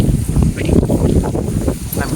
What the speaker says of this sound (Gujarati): હું જે બોલું ને એ તમને અવાજ ઓછો જ આવતો છે, કારણ કે પવન બહુ છે